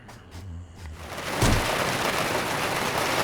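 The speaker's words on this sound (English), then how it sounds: "The storm's getting worse again." A rainstorm in the survival video game DayZ on Namalsk starts with a few soft knocks, then breaks into a steady heavy downpour that keeps a dense, even hiss going to the end, with no talking.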